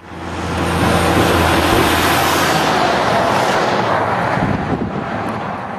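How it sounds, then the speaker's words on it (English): A huge truck with a powerful engine of over 400 horsepower rumbles loudly and continuously, a deep roaring drone that swells in within the first second and holds steady without talk. "The powerful engine moving this huge truck is producing over 400 horsepower."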